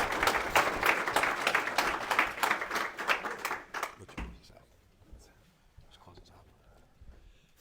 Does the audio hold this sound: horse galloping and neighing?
no